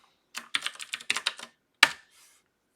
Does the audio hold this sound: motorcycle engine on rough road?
no